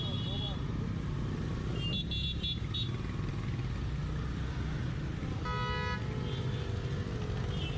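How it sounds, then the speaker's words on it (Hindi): Car horns honk in heavy traffic, a couple of short toots early and a longer blaring honk later, over a constant close rumble of engines and motorbikes. "बहुत बजा रही है ट्रैफिक में, इसलिए सब देख रहे मुड़ के।"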